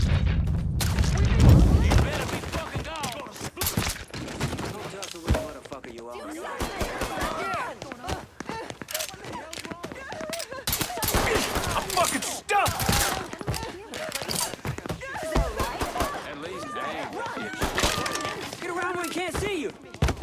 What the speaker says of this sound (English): Did he just shoot him?